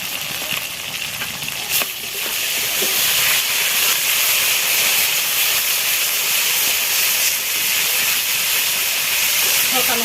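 Ginger, garlic and cumin spice paste fries in a pan for a village-style chicken curry, giving a steady, close sizzle and hiss that runs unbroken from start to finish.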